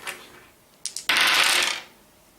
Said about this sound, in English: the placement phase starts by each player rolling their 2 or 3 dice